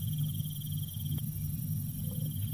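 Crickets chirping in bushes and jungle at night, a continuous high pulsing trill over a low rumble, steady and close with no voices.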